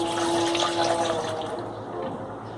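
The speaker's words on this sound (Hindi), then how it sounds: "दूध ऐड करेंगे।" Milk pours into a glass of red sherbet drink with ice cubes, a close, steady liquid splashing and gurgling that gradually fades, with no talking.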